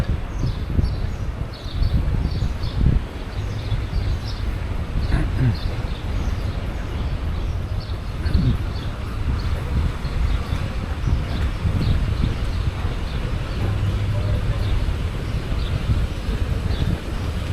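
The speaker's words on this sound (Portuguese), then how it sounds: "Tá forte o vento." Strong wind at Canasvieiras beach buffets the microphone with a constant, low rumbling roar, steady and loud across the whole stretch, with faint birds and distant background sounds underneath.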